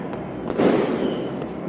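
Christmas firecrackers bursting outdoors, a sharp crack near the middle followed by a broad, loud blast that rumbles on, with a fainter pop near the end.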